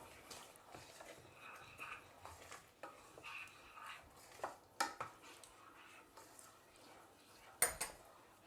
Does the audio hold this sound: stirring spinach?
yes